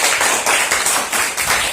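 Students in a fifth-grade maths classroom clap together loudly for a classmate, a dense, steady burst of hand claps with slight rhythmic swells lasting under two seconds and no talking over it.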